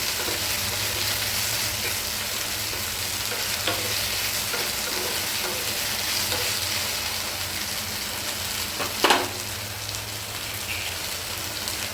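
Okra and egg fry sizzles steadily in a pan while a spatula stirs it, giving a constant close hiss with light scraping taps and one sharper clack.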